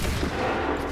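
Dense, continuous gunfire from a musket-era battle line in Assassin's Creed 3, a sustained loud wash of overlapping shots with no distinct individual reports.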